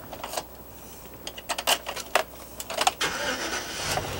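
A 2009 Chevrolet Express 2500 cargo van engine cranks and catches, keys jangling first, then the starter whirs in short bursts before the motor fires and settles into a close, steady idle.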